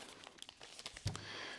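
A plastic bag crinkles and rustles close up during a drone unboxing, a series of quick crackles with a sharper crunch near the middle. It is faint overall, with no speech.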